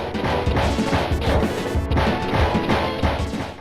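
A car is smashed by punches and kicks in a fighting video game's bonus stage: a rapid run of loud, close metallic crashes and thwacks, repeated blow after blow with no talking.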